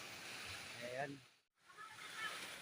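Small waterfall in Barangay Diongan, Siayan, Zamboanga del Norte, a steady broad rush of falling water under a person speaking, with a brief dropout in the middle.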